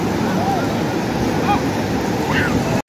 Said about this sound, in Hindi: आप ये देख सकते हैं बहुत सी लहरें बन रही हैं फिल वक्त समुद्र में